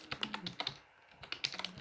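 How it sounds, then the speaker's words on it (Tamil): Computer keyboard typing with quick irregular key clicks in two short bursts separated by a brief pause, close and moderately quiet, no voices. "ஸோ வந்து நான் இங்கே டைப் பண்ணுறேன்"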